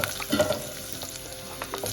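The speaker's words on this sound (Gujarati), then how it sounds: "મરચાંનો વઘાર થઈ જાય ને પછી ગાજર મૂકું" Green chilies temper in hot oil for a moraiyo dish, giving a soft, close sizzle with faint crackles over a couple of seconds.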